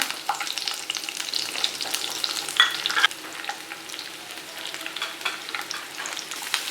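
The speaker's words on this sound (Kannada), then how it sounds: "ಆನಿಯನ್ ಮತ್ತು ಕ್ಯಾಪ್ಸಿಕಮ್ನ ಮೀಡಿಯಂ ಫ್ಲೇಮಲ್ಲಿ 5 ನಿಮಿಷ ಫ್ರೈ ಮಾಡ್ಕೊಳ್ಳೋಣ" Cubed onion and capsicum frying in about three spoons of hot oil over medium flame, a bright steady crackling sizzle with stirring scrapes, close and without talk.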